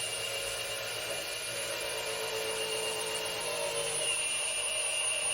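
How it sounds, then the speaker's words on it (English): A drill turns the oil pump to prime the engine of a 1972 GMC Jimmy, giving a steady, continuous whine with a faint rise in load partway through; no talk. "you can hear the drill load up and put some pressure on it"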